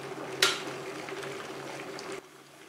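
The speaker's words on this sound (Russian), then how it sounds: "Ну вот, наш чайничек с вами и закипел." A Tefal KO29913E electric kettle comes to a boil, giving a steady rushing, bubbling hiss with a sharp knock near the start before the sound drops away abruptly.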